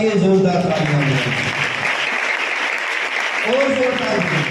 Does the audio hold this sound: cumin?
no